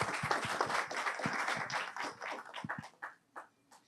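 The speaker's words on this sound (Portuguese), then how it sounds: "Uma salva de palmas para eles, por favor." An audience claps at a healthcare marketing-technology talk event, with dense applause that thins into scattered individual claps toward the end.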